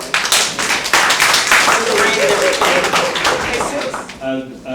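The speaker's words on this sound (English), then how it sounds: "give yourselves a round of applause for being here today" An audience claps in a dense, loud burst that carries on for several seconds, with a voice starting to speak as the clapping fades at the end.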